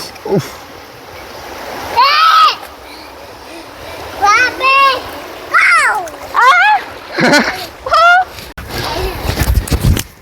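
Children shout and squeal over steady rushing water of an estate stream, with bursts of splashing near the end.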